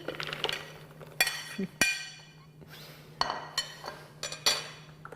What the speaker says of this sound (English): I'm going to add the cranberries. Now these happen to be frozen.